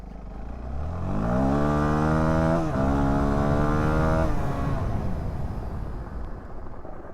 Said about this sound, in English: I'm just going to accelerate super hard and see what kind of grip I've got on the rear tire.